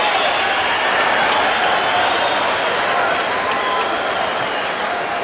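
A boxing crowd at a professional fight between Jeff Lacy and Rubin Williams cheers and applauds loudly and continuously, a dense roar of clapping and shouting filling the arena.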